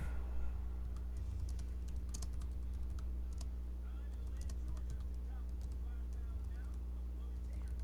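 Keys tapping out a search on a computer keyboard, quick irregular clicks in a steady stream beneath a constant low hum, with a brief rise in activity at the start.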